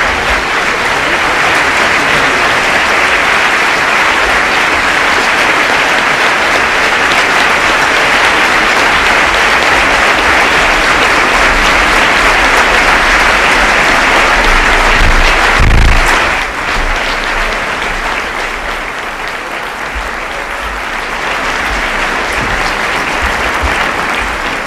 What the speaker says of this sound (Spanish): Puestos en pie los invitados, acogen con una ovación a Su Alteza Real el Príncipe don Felipe.